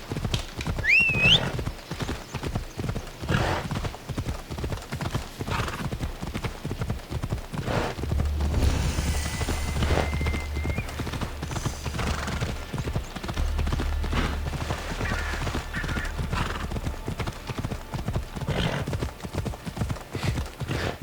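Horse hooves clip-clop steadily on the ground in Assassin's Creed Odyssey, a brisk, continuous ride heard close, with a brief whinny near the start and faint ambient game sound underneath.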